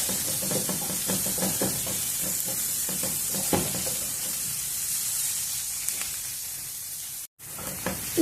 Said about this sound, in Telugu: కొంచెము ఉల్లిపాయలు వేగడానికి కొంచెము ఉప్పు, ఇంకా కొద్దిసేపు వేయించుకున్నాము.